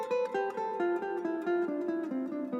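A guitar runs a descending diminished scale, with clean, evenly spaced single notes stepping downward in a steady rhythm, played solo and close.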